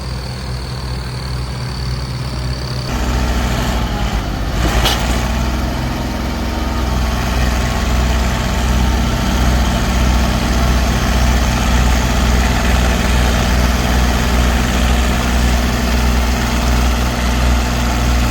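A tractor engine pulling a sugarcane trolley stuck in a village field, a loud continuous low diesel rumble that rises and holds steady after the first few seconds.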